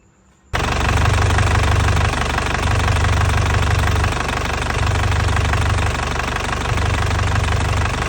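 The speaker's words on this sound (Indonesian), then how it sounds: "kita hidupin dulu mesinnya, kita panasin" A 2009 Isuzu Panther LS Turbo diesel engine fires up after a short silence and runs on steadily while warming up. It gives a loud, close, rhythmic clatter with a pulsing low throb.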